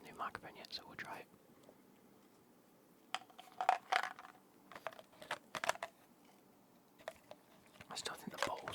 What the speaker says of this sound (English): I feel like we do have some gum chewing today.